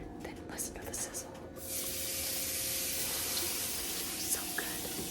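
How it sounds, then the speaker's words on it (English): Raw chicken hitting a hot pan sets off a loud, steady broadband sizzle that holds without letup, close and dense, after a brief soft whisper at the start. "Now I'm gonna take my chicken. Then listen to the sizzle."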